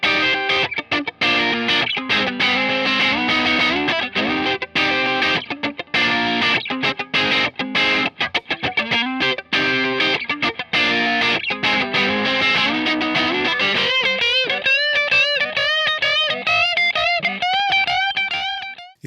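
Yamaha Pacifica 212VQM maple-top electric guitar through an amplifier's crunch channel, playing loud, continuous bluesy chords and riffs, then moving into sustained, vibrato-bent lead notes toward the end.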